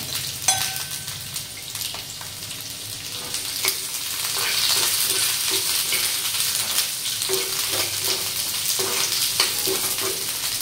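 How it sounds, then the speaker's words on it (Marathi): Onion, garlic cloves and ginger sauté in a spoonful of oil for a Marathi baingan bharta, a steady sizzle with repeated stirring scrapes and light clinks of the spoon against the pan, close and continuous. "ह्या कांदा, लसणाच्या पाकळ्या आणि आलं हे पहिलं आपण चांगलं परतून घेऊया"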